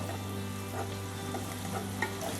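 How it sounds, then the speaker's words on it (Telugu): Ivy gourd coated in gram flour fries in a pan over a low flame, giving a soft, even sizzle with light bubbling that stays steady throughout, under a constant low hum. "లో ఫ్లేమ్ మీద మూత పెట్టి ఫ్రై చేద్దాం."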